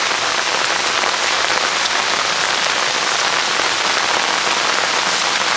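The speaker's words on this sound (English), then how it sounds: "They say we've gotten 4 inches of rain." Heavy rain from the remnants of Tropical Storm Lee in upstate New York pours down steadily, a loud, dense hiss of drops pattering on surfaces without letup.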